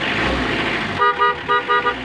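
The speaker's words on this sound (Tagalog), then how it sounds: "Lumakas pati busina." An L300 van engine runs, then its horn honks in four or five short, loud toots in quick succession.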